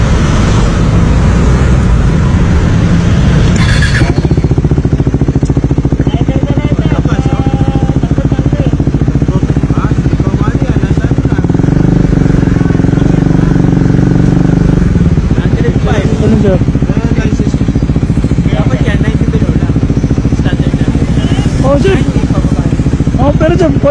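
A 400cc motorcycle engine runs loud and close throughout on a roadside, a constant rumbling drone with a throttle surge near the start, heavily mixed with wind and road noise while people talk over it.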